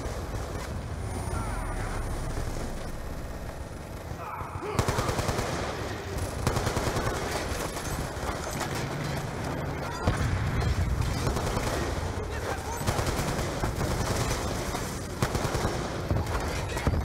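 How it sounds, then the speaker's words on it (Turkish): Continuous gunfire in the video game Call of Duty Black Ops 2: rapid automatic bursts fire almost nonstop for the whole stretch, loud and dense, with occasional louder volleys and a faint voice in the background. "Sen bana mı sıkıyorsun oğlum?"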